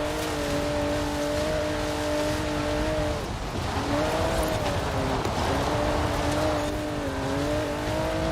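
A 1991 GMC Syclone in the Forza Horizon 4 racing game, its engine droning loudly and steadily with rising and falling pitch as it shifts, with faint tire noise underneath.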